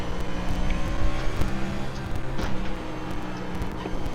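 A Garage 56 race prototype car in a racing video game roars steadily at high speed down the Mulsanne straight, its engine note loud and continuous with brief tire noise, no voices.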